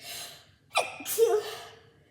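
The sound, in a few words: sneeze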